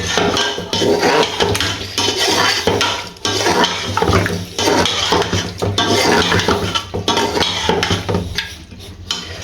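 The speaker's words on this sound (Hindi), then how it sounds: "एक बार अब इसको हम मिक्स कर देते हैं।" Spices are stirred into chicken karahi in a pot with continuous scraping and clinking of a metal spoon against the pan, close and busy, with wet sizzling underneath and no one speaking.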